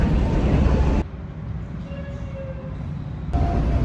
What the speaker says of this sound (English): It's a smooth train.